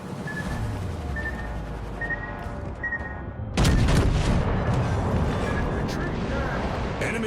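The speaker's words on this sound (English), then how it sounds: "Enemy destroyer blown up." A destroyer blowing up in the naval battle game World of Warships Legends, a loud sudden blast partway through that keeps rumbling over the steady engine and sea noise, with a voice speaking in the mix.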